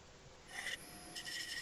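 Wood bowl being turned on a lathe with a bowl gouge and scrapers, giving a steady faint scraping rasp with brighter cutting bursts partway through, heard alone.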